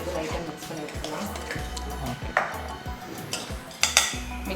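Paneer mixture for shahi pulao gets a light stir in a pot, with a spoon scraping and clinking against the metal in short repeated strokes that pick up a few sharper knocks near the end.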